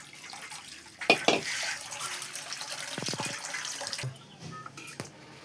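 Water runs into a cooking pot at home for boiling potatoes, a steady broadband pour with brief splashy bursts and a few louder sloshes near the start, then tapering off.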